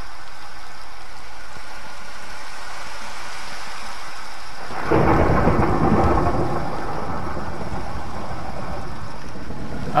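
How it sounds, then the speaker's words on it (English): Minecraft rain falls as a steady hiss, then a loud rolling thunderclap breaks in about halfway and rumbles on under continuing rain, with no talk over it. "Rain."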